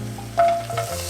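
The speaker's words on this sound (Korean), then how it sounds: "그다음에 이제 양파 순으로 볶으시면 됩니다." Onions frying slowly in a pan, a soft steady sizzle with faint stirring scrapes, brief and close.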